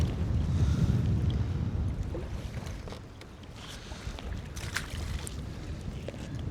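Wind gusts buffet the microphone out on the water during kayak fishing, producing a low, rumbling roar that swells and eases over several seconds, with faint splashes and small knocks from the boat.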